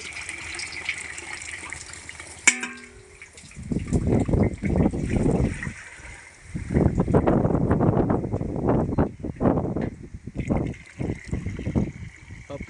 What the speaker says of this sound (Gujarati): પંપની અંદર પાણી ભરવામાં આવે છે.